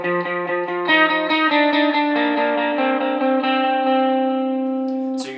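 Electric guitar lead line from a song, played with a delay effect: a few quick picked notes, then a run of sustained, distorted tones with repeats smearing into each other, ending in a brief scrape.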